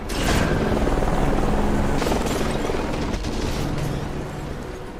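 A helicopter's steady rotor roar fills the air during an action battle sequence, loud and continuous with rumbling bursts mixed in and no talking.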